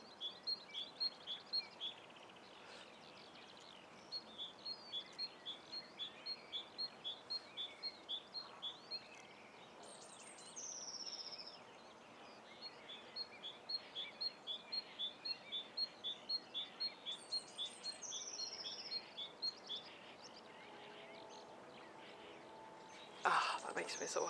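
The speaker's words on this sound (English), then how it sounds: "Can you hear the birds?" Small birds chirp and twitter outdoors in spring in quick repeated bursts, fairly distant and soft, over a quiet background, with a brief clunk near the end.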